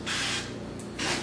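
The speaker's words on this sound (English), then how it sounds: "I'm just going to go through and spray the pillows" A spray bottle mists pillows indoors, two sharp hissing bursts of about a third of a second each separated by a short gap, loud and close over a faint steady hum.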